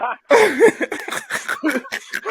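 A few quick coughs mixed with throaty, chuckling bursts, close and choppy, in short uneven spurts.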